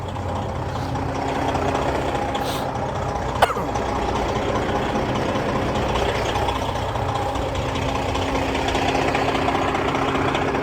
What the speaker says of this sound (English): I'm gonna show you the engine too, which is the Detroit 60 series